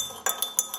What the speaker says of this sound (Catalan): I ara barregem.